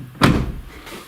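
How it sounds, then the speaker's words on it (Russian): Car door on a repaired Hyundai Solaris closing once with a solid thud, then a quieter tail of cabin and mechanism noise. "Двери открываются, закрываются"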